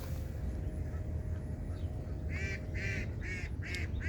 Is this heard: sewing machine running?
no